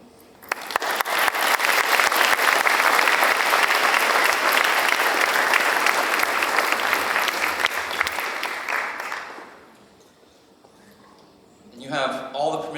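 A high school band concert audience applauds loudly and steadily for about nine seconds before the clapping fades, followed by a brief spoken voice.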